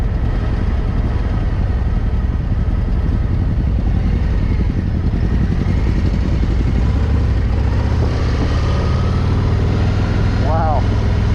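A 2025 Harley-Davidson Ultra touring motorcycle runs steadily while riding out, a continuous low engine rumble with mechanical clatter that holds close and loud throughout, with a brief tonal chirp near the end.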